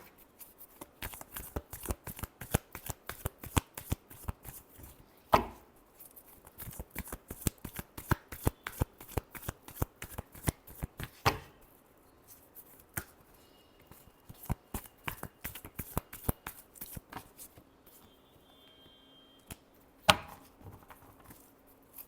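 Tarot cards being shuffled by hand: a long run of quick, crisp riffling clicks in an uneven rhythm with a few sharper slaps, close and fairly quiet.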